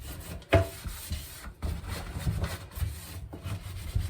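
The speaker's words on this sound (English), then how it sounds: "I'm just gonna scrub it until all that like wet pink stuff is off." A sponge scrubs wet pink emulsion off a screen-printing screen in close, rhythmic rubbing strokes, with a few harder scrapes between softer swishes.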